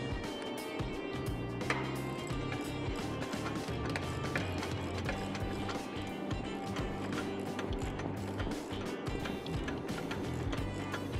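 A nut is tightened with a wrench on the head holder lockbox of an Arrowquip livestock chute: rapid, continuous metallic ratcheting clicks, close and steady, with no voices.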